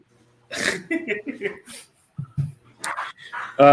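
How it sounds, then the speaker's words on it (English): Dogs play fighting indoors, giving a burst of close, loud barks, yips and whimpers in quick irregular succession with short pauses between them. "I'm not sure if you hear my dogs right now. They're having a lot of play fighting right now."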